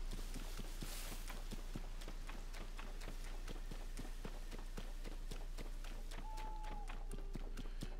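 Horse hooves galloping in Zelda: Tears of the Kingdom, a rapid, steady train of clopping beats, quiet and even throughout, with a faint game chime near the end.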